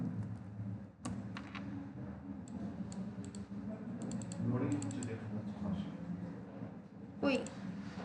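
Typing on a computer keyboard while setting up a Facebook page automation, with scattered clicks and short bursts of keystrokes under a low room hum and a person talking.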